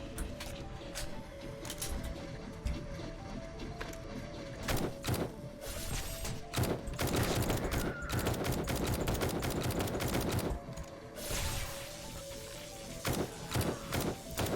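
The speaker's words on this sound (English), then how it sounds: "Some terrible shooting" Bursts of gunfire from a 7 Days to Die Alpha 19 style survival game, with a dense rattle of shots that come in clusters and keep going, loud against a game background hum.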